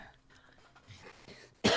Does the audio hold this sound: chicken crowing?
no